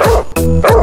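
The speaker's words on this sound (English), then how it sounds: "There was a farmer had a dog, and Bingo was his name." A dog barks twice in a quick, loud, close pair of yips during a children's song about a farmer's dog, sharp and bright with a short gap between them.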